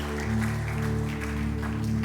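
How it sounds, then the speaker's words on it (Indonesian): Church congregation clapping after the preacher asks for applause for God, a steady broadband patter with sustained organ or keyboard tones held underneath throughout. "Boleh kasih tepuk tangan yang terbaik buat Allah kita."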